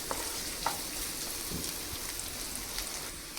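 Cluster beans curry spices frying in oil in a pan, a steady close crackling hiss with scattered small pops throughout, no voices.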